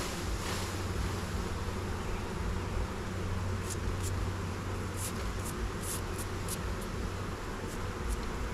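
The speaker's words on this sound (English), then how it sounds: "Right now it's covered with bees, and I want their honey, so I have to get the bees off of there." A dense, continuous buzzing of many bees on a honey frame fills the air, close and steady, with occasional sharper flutters of wings over the hum.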